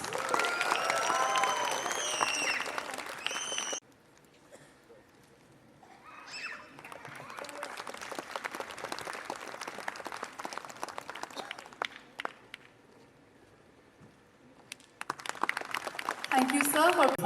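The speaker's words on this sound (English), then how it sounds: "A big round of applause." A pageant crowd at Miss Meghalaya 2024 claps steadily in two long stretches, the applause filling the hall, with a spoken voice breaking in between.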